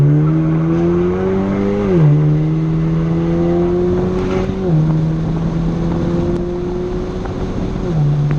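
A Chevrolet Camaro in second gear accelerating hard with traction control switched off, a loud, steady engine drone climbing in pitch with a couple of brief gear-like dips, heard from inside the car.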